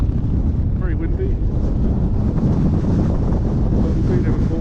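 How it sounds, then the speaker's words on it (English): Strong, continuous wind on the Pen y Fan mountain top buffets the microphone with a heavy low roar, gusting steadily throughout, with a faint voice briefly underneath. "Very windy."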